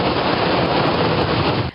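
Steady, dense rain pours over farm crop fields in a brief, loud, unbroken hiss with no voices.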